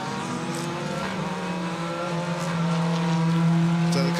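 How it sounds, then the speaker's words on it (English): BTCC touring car rolling back into the pit lane at Donington Park GP on a wet day, its engine a steady, close drone that swells slightly toward the end, with no talk over it. "So the car's still coming back into the pit lane."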